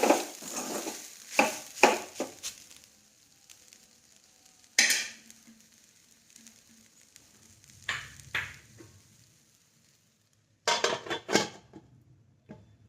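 Gram (chickpea) leaf greens stirred in a pan with a spatula: a few bursts of metal scraping against the pan with short pauses between them, a clank as the lid is placed, then more scraping and clatter near the end. No talk.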